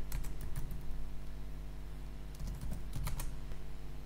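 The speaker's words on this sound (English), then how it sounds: "Now I'm going to type Synoptic." Quick bursts of keystrokes on a computer keyboard, a short run of taps, a pause, then another cluster, close and crisp over a steady low hum, with no talk.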